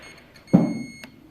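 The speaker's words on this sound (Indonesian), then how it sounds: "Ternyata masih ada bunyi buzzer alias masih short." Multimeter continuity buzzer sounding while probing a shorted circuit on a Sony LED TV board, a single short tone amid faint background hum and a brief click afterward.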